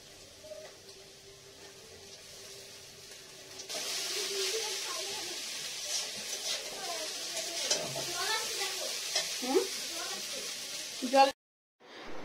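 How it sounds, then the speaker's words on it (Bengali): Chowmein noodles being stir-fried with already-fried vegetables in a pan, a steady sizzle with scraping and stirring clatter growing louder after a few seconds, ending in a sharp clank before a brief silence. "সবজিগুলো ভাজা হয়ে গেছে, এখন চাউমিন গুলো দিয়ে দিই"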